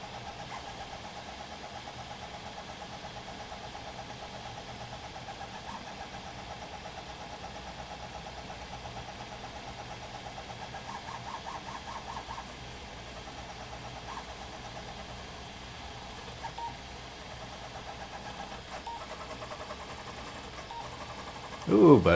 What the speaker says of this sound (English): I've never seen a printer move that fast.